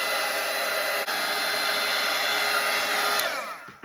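A hair dryer drying a watercolor painting of a bird's nest with blue eggs blows in a loud, steady whir, briefly dipping once, then winding down and cutting off at the end, with no voices.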